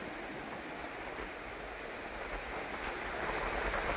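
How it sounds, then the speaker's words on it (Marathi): Steady broadband rush of surf on the beach at Alibag, India, continuous and moderately loud, swelling slightly toward the end, with no voices. "हा अलिबागचा हा समुद्र"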